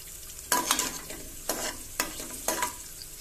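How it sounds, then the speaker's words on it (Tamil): Cashews fry in hot groundnut oil and ghee inside a pressure cooker, a soft steady sizzle broken by four crisp stirring scrapes spaced about half a second apart. "எண்ணெய் சூடானதும் நம்ம எடுத்து வச்சிருக்க முந்திரியை ஃபர்ஸ்ட் போட்டு நல்லா வறுத்துக்கலாங்க"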